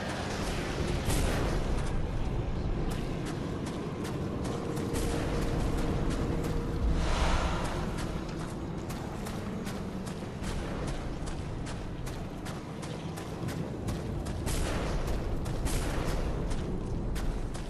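Enemies fire guns in the video game Bloodborne, producing a dense, continuous barrage of shots and heavy booms that lasts throughout, with no talking.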